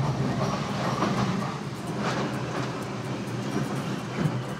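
A 700-metre track renewal train working on the railway between Cologne and Düsseldorf produces a steady mechanical rumble and hiss, with faint rhythmic clanks throughout.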